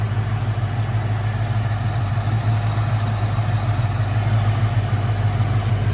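A Fox Body Mustang GT's 5.0 liter V8 idles smoothly and steadily, a loud close low rumble that holds an even level throughout with no voices over it.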